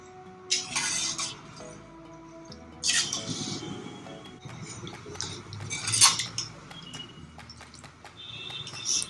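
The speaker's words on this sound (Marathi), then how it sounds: "याच्यामध्ये आपण हा गोडा मसाला घालणार आहोत. मसाला चांगला मिक्स करून घेऊया आपण." A metal spoon stirs goda masala in a pan for Puneri misal, producing repeated clinks and scrapes against the metal in irregular bursts, close and moderately loud.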